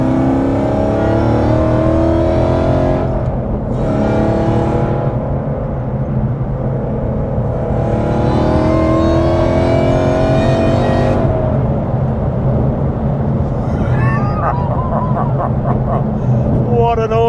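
A supercharged 862bhp Ford Mustang GT engine revs hard and loud from up close, climbing through repeated rising sweeps with a steady rumbling base, dropping briefly between pulls.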